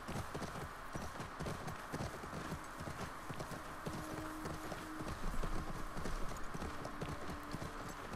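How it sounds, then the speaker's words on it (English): A horse gallops in The Last of Us Part II, its hooves drumming in a fast, steady clip-clop over a continuous game soundscape with a low hum, occasional snorts and brief tonal cues, no speech. "Oh, we're getting actual speed on this horse as well."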